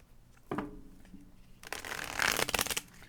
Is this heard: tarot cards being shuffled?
yes